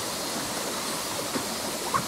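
Small water waves lapping and rushing in a steady wash at a fish spot, moderately close, with a faint splash near the end and no speech.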